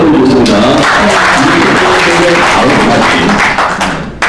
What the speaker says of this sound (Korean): 또 박수 한번 부탁드리겠습니다.